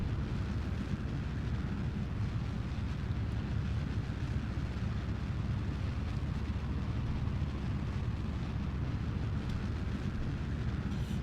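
Parts bursting apart during a fiery reentry in Kerbal Space Program, a steady dense roaring rumble of fire and small explosions filling the whole stretch without pause.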